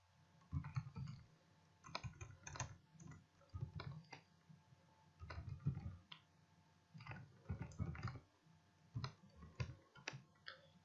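Keys on a computer keyboard are pressed one after another, including the Tab key, while filling in a form in Microsoft Word. The clicks come close and fairly soft, with an irregular rhythm and short pauses between groups, and no talk.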